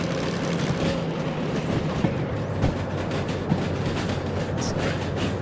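Empty train wagons shunting on factory rails give a continuous close rumble with intermittent clanks and clicks, and the wheels clatter steadily throughout.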